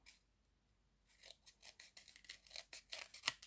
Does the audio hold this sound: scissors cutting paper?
yes